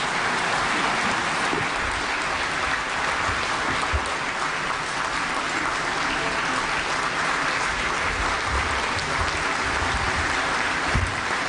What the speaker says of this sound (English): let's give a warm round of applause to President Aquino III to deliver the keynote speech